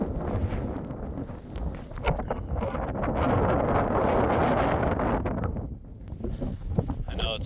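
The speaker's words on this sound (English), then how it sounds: "I know it's super windy. I don't have my mic with me." Strong wind buffets the open microphone in remote Wyoming, rough low rumbling gusts that swell and ease, with a voice speaking under it.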